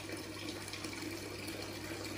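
Water runs steadily through the channel of a homemade hydroponic NFT system, a constant close trickling wash with no talk over it.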